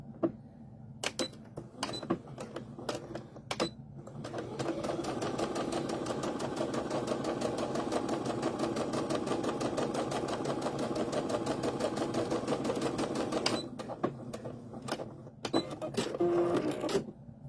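Sewing machine stitching fabric for a wrist key holder, a few short bursts of needle clatter, then one long continuous run of rapid mechanical whirring, then more short bursts.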